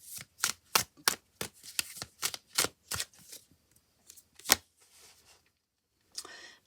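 A deck of cards is shuffled in a quick run of crisp riffling bursts, about a dozen sharp flicks in close succession, then a few softer ones and a final brief riffle, close and quiet with no speech.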